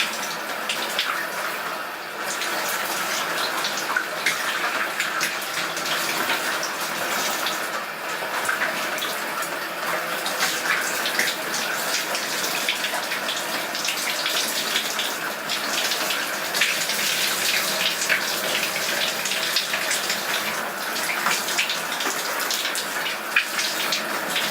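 Shower water runs without a break in a bathroom, a loud, steady rushing spray with small shifts in splash as someone washes beneath it, and no talking.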